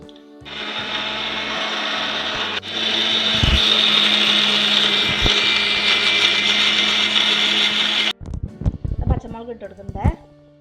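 A kitchen mixer grinder whirs loudly and continuously as it grinds fennel seeds, green chillies and spices into a paste, then cuts off abruptly, leaving brief clattering and voices talking.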